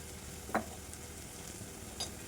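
Raw mango and tomato frying in a pan for a curry, a steady hiss of sizzling broken by two short knocks of a utensil, close and without talk.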